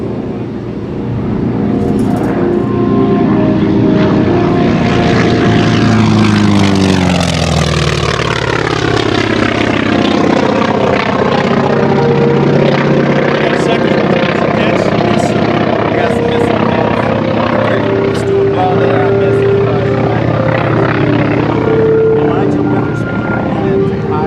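A T-28 Trojan propeller aircraft performs an air show demonstration, its loud engine drone rising and sweeping in pitch as it passes close, with crowd or announcer voices underneath.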